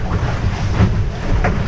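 A racing sailboat sails upwind in about 20 knots of wind on an offshore race leg toward the Azores, with loud, continuous wind and water rush and a few dull thumps as the hull slams into waves.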